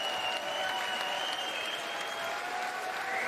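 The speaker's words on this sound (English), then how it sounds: "one more big round of applause for both of our fighters" An audience at a boxing event gives both fighters a long, even round of applause, a steady wash of clapping heard at a distance without a break.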